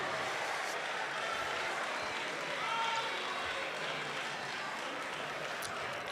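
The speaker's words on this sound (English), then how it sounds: "a round of applause, a round of applause, a round of applause for Opoku Ware School" Sustained applause from a large audience at a national school science and maths quiz final, a dense even patter of clapping that holds steady throughout.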